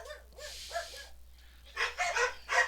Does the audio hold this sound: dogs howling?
yes